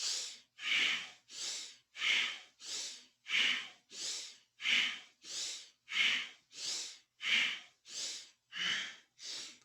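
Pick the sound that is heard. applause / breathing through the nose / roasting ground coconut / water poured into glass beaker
breathing through the nose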